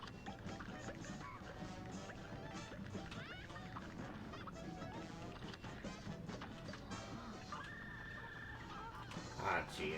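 Geese honk repeatedly in the video game Cuphead amid a dense, busy mix of game music, crashes and effects, the honks partly buried under the constant loud soundtrack.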